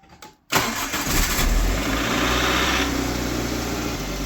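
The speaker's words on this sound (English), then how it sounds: "Does it sound like a Golf? No. Sounds like a Toyota." A 20-valve Toyota Corolla FX with twin exhaust pipes cranks and fires after a brief quiet moment, then settles into a steady, close idle.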